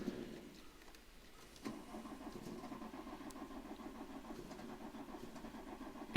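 A VW Golf Mk2 engine cranks with a steady rhythmic starter whir, catching briefly as if trying to fire but never starting, heard fairly close and alone.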